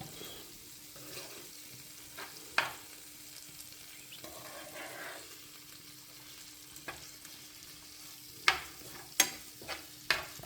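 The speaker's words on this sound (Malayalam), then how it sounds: "ഇനി അതിലേക്ക് ആവിയിൽ വേവിച്ചെടുത്ത നെല്ലിക്ക കഷ്ണങ്ങളിട്ട് നന്നായി മിക്സ് ചെയ്യുക" A spoon stirs steamed gooseberry pieces through a thick, wet pickle mixture in a pot, with soft scraping and several sharper clacks against the side, quiet and close.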